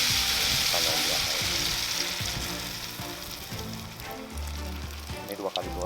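Sempol, a rolled Indonesian street snack, being deep-fried a second time at a street stall, giving a steady, close, hissing sizzle of hot oil throughout while people talk nearby.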